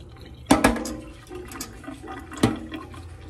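Water splashing and pouring over chickpeas in a bowl, with two sharp splashy bursts of rinsing water amid quieter trickling and sloshing, close and fairly loud.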